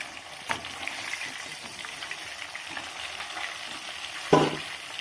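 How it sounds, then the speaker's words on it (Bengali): Rohu fish heads spit and sizzle in hot oil in a wok, a moderate steady crackle with occasional stirring clicks and one sharp louder scrape or splash near the end. "আর এইভাবেই এক এক করে আমি বাকি মাছগুলোকে ভেজে নেব।"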